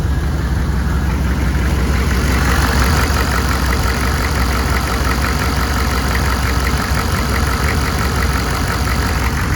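A 6.5L turbo diesel truck engine idles with a new injection pump fitted, a steady, loud, even clatter with no lope, running continuously and close by.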